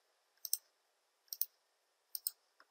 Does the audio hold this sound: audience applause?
no